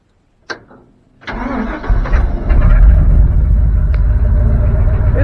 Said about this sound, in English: Starts right up. Doesn't sound great because it doesn't have any exhaust on it